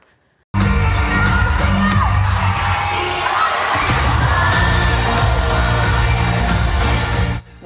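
A concert crowd at a show in San Francisco erupts suddenly into loud, sustained screaming and cheering, shrill voices and whoops filling the air continuously before cutting off abruptly.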